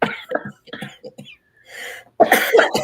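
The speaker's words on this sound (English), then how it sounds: "now we're both going to cough" Several sharp coughs burst out in quick succession, close and loud, with a brief pause before a final harsher cluster of coughing.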